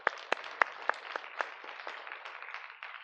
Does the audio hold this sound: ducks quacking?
no